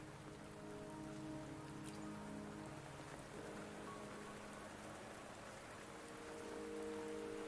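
Steady rain falling in a video game scene, a constant soft hiss of drops with faint low musical tones beneath, no voices.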